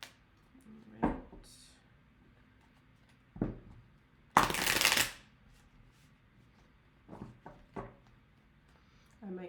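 A deck of playing cards being shuffled in one brief, loud riffling burst, with quieter clicks and handling noises before and after.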